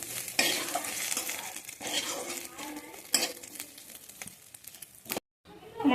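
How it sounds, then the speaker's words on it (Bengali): Cashew nuts frying in a spoonful of ghee in a pan while being stirred, giving a close sizzle with repeated scraping and clinking of the spoon, then a short silence near the end. "ঘি দেওয়ার পরে এই কাজু বাদামগুলো দিয়ে দিলাম, একটু নেড়ে চেড়ে নিই।"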